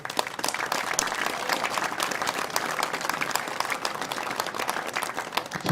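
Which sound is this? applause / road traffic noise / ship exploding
applause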